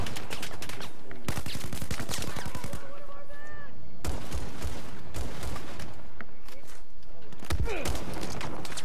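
Video game gunfire: loud bursts of automatic fire and single shots crackling in rapid strings, broken by short pauses, with players talking over the shooting.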